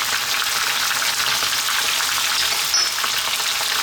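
Chopped onion and garlic ginger paste fry in a pan for a chicken curry, a steady loud close sizzle with no talking.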